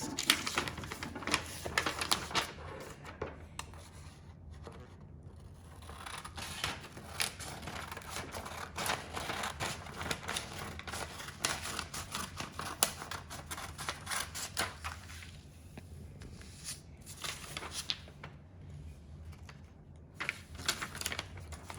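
Scissors snip through a sheet of colored paper with a steady run of close, crisp cuts and rustles, continuing without pause and no talking.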